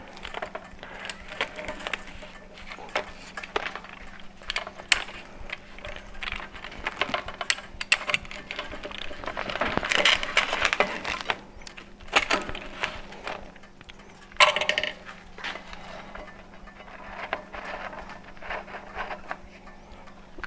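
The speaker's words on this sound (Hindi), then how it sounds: "आप कटर से कटने की आवाज़ भी सुन सकते हैं।" A pizza cutter rolls through a crunchy pizza baked in a gas impinger conveyor oven, giving faint, irregular crackling and scraping that comes in bursts over about twenty seconds, close by with no talking.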